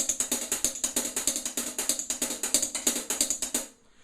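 Rapid, even stream of crisp metallic ticks from sticks rolling on a hi-hat, close and steady, stopping abruptly near the end.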